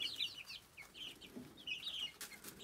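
Young chicks kept apart from the rest of a backyard flock give soft, scattered high cheeps and clucks, faint and close together, against a quiet coop background.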